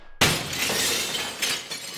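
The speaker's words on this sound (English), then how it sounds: "It's the chandelier crashing from the ceiling gag that we did" A chandelier crashes down from the ceiling in a staged film effect, starting with a sudden loud glass shatter followed by a tinkling, scattering spray of breaking pieces and a second smaller crash.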